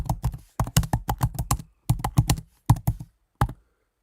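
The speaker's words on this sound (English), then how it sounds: "You hear how hard and how bad I type." Someone hammers hard on a computer keyboard, with sharp, loud clacks arriving in quick bursts and short pauses between them, close up in an otherwise quiet room.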